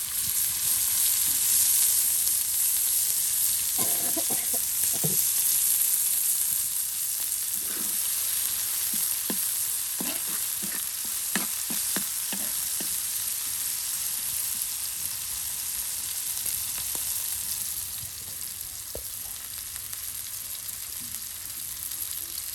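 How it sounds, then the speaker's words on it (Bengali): Drumstick leaves (sajne shak) sizzle steadily in hot oil in a village kitchen, with a dense continuous frying hiss and scattered clicks of stirring throughout. "শাকে বাগার দেওয়া হবে।"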